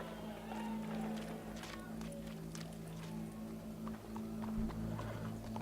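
Horse hooves clopping at a steady trot in Red Dead Redemption 2, mixed with a constant low game hum and ambient noise, with someone talking faintly at times.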